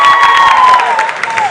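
Loud applause and cheering from the audience at a national science and maths quiz grand finale, a brief dense burst of clapping with excited crowd shouts and a wavering high tone running through it.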